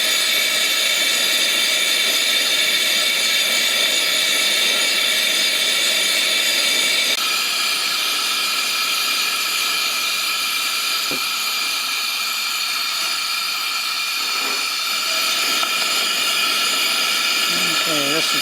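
An AGM Kampkook gas stove burner turned fully open gives a loud, steady broadband hiss that holds throughout, with a slight change in tone partway through.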